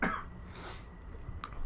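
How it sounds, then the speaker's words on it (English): A single sharp cough from someone who says they are sick after an infusion, loud and close at the start, followed by quieter breathing and room noise. "cough from this fucking infusion that I got"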